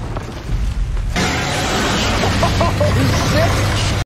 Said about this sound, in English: Is that the black smoke?